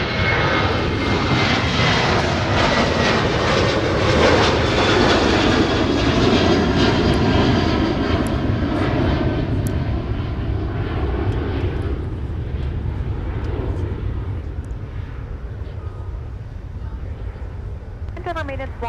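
A Delta jet airliner roars down runway 30 left at MSP on its takeoff roll, a loud, sustained broadband engine rumble that fades gradually toward the end, with radio talk faintly over it.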